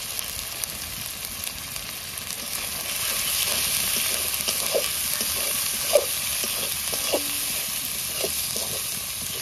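Ginger and garlic fry in oil with spices, a steady broad sizzling hiss that runs throughout with faint scattered stirring clicks beneath it.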